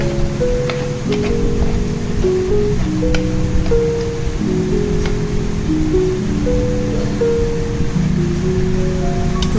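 Cooked chickpeas and mushrooms sizzle and hiss steadily in a frying pan, a dense crackling texture with occasional clicks, while a music track plays over it continuously.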